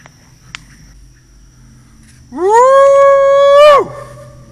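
A person imitating a howl: a single long howl rises, holds a steady tone for over a second, then drops off sharply; quiet crickets and stillness before and after.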